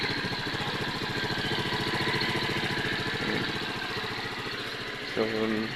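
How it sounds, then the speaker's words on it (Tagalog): A Rusi Sparkle 150i scooter engine idles steadily nearby with a low, even putter throughout, a brief clunk near the end. "Okay lang din yung tunog ng makina niya."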